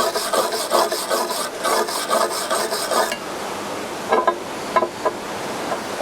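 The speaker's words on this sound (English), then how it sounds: "Get rid of the slag off the top." A wire brush scrubs slag off a fresh weld bead in quick, rhythmic rasping strokes, close and fairly loud, followed by a few slower, scattered scrapes.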